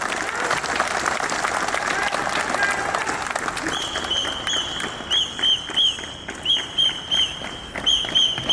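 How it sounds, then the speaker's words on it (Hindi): Loud, sustained applause from an audience at an Independence Day ceremony at Chandigarh International Airport, greeting commando squads, continuing throughout, with rhythmic bursts of clapping in the later part. "जोरदार तालियों से स्वागत"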